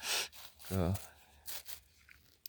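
Plastic vinyl mulch is torn open in a garden bed where garlic is planted, giving short rough ripping bursts close by, with a person speaking briefly between them.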